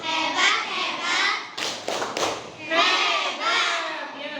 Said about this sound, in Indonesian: Kasih tepuk hebat untuk kelompok 2.